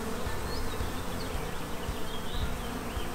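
A steady, dense buzzing of many honeybees in a hive with a laying worker and drone cells, close by and continuous, with no voices over it.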